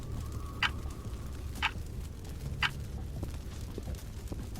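Clock ticking in a Skibidi Toilet episode, three sharp, evenly spaced ticks about a second apart over a low background hum, followed by fainter clicks.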